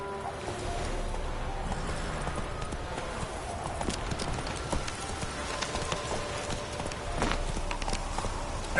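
A horse gallops in the video game The Witcher 2, a continuous rapid clip-clop of hooves at steady speed over a constant background rumble.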